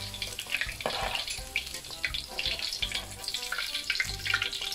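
Pork pieces fry in hot oil with a busy, crackling sizzle at moderate level, steady throughout with scattered pops and light clatter.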